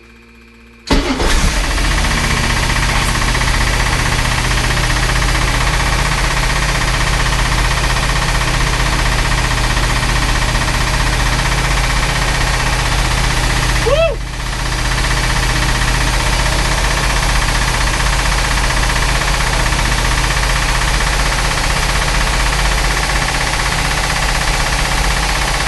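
A Chris Craft 454 marine engine that sat unused for ten years cranks and catches, then settles into a steady, loud, rumbling idle that runs on without talk.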